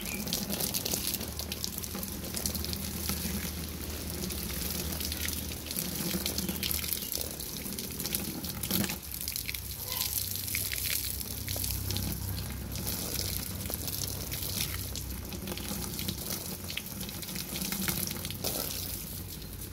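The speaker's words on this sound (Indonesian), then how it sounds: "Kita pagi ini guys, memandikan durian guys." Tap water gushes and splashes over a potted durian bonsai tree outdoors, a continuous close hiss and spatter that carries on without pause.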